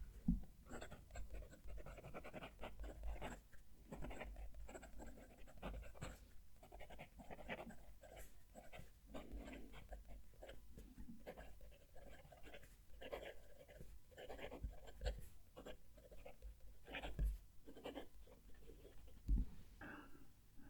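A Visconti Van Gogh fountain pen nib scratches softly across paper in short strokes and pauses, faint and close, with no talking.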